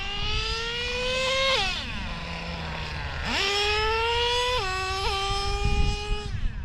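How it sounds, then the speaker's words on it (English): An O.S. 21 nitro engine in a Traxxas RC model runs at a high, buzzing whine, its pitch dropping and then climbing sharply as the tune swings from rich to lean, close and loud with no talking. "you can really hear the engine change, went from rich to lean like that"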